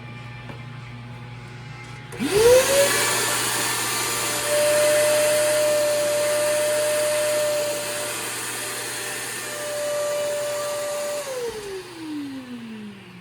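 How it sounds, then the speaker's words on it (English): A loud vacuum cleaning gun motor whirs up to a steady high-pitched drone while removing screen-printing chemical from a t-shirt, holds for several seconds with slight changes in pitch, then winds down. "we'll just vacuum it off"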